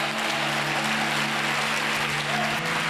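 A church congregation claps and cheers in a dense, continuous wash of applause that holds evenly loud throughout, with a low steady hum running underneath.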